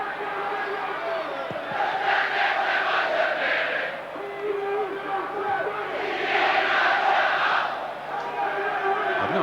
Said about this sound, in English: I've no idea what they're shouting on the public address, but it's very noisy.